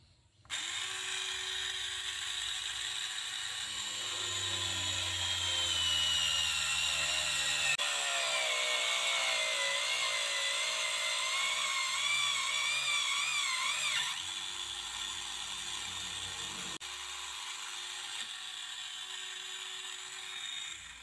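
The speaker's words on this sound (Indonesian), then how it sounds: "Kita akan mengebor satu buah plat aluminium seperti ini" A homemade bench drill press built from scrap parts bores through an aluminium plate, its motor whining steadily for about twenty seconds with a rising, wavering grind as the bit cuts, then easing back toward idle.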